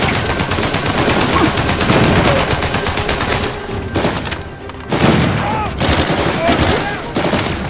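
Enemy shotgun and other gunfire in the video game Uncharted 4, loud rapid volleys of shots nearly continuous with brief lulls, with game voices talking under the shooting.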